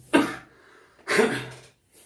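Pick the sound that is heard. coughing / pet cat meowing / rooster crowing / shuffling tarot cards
coughing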